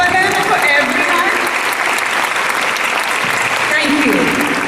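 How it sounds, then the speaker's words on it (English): An audience at a school Founder's Day celebration claps in a loud, dense, steady burst of applause that holds evenly for several seconds. "big round of applause for them and for everyone."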